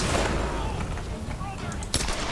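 Gunfire in the Tomb Raider video game, a few shots over a busy background of game sound, with one sharper crack standing out near the end.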